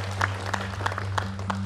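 A studio audience at a Vietnamese television word game show applauds in a short burst of scattered claps over a steady low hum, moderately loud.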